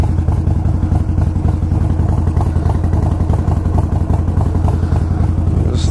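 A Harley Davidson motorcycle idles close by with a loud, steady, lumpy throb from its engine and exhaust, the rhythm continuous and unchanging with no talking.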